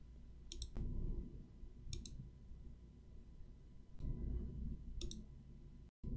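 Several sharp computer mouse clicks, sparse and evenly spaced a second or more apart, set against a low steady room hum with no speech.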